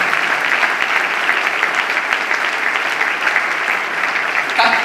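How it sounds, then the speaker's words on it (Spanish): A church congregation applauds steadily, dense clapping that holds at an even level throughout. "yo si estaría en su lugar le daría un aplauso y le daría gracias"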